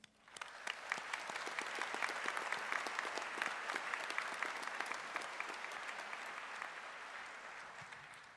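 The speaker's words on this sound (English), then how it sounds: "I invite everyone to join me in applauding their achievements" Sustained applause from the audience at a SJR State spring graduation ceremony, a dense, steady wash of many hands clapping that swells, holds for several seconds and slowly tapers, heard at a moderate distance.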